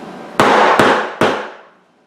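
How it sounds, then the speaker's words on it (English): A hammer pounds a vinyl flooring plank into place on a wall, three loud, sharp cracking blows spaced evenly, each leaving a long ringing decay. "but this is what I use to pound the floor into place."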